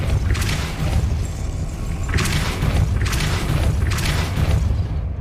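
Depulso, a force-push spell in the Hogwarts Legacy video game, cast as a series of booming blasts over a steady low rumble, with about three or four thumping bursts close together.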